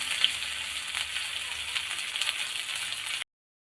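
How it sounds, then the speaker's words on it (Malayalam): Ginger frying in a tablespoon of coconut oil with garlic for an Onam ginger curry, giving a steady close sizzle with faint crackles, then a sudden cut to silence. "ചൂടാക്കി വറുത്തെടുക്കുകയാണ് ചെയ്യുന്നത്. വെച്ചിരിക്കുന്നത് 1 ടേബിൾ സ്പൂൺ വെളിച്ചെണ്ണയാണ്."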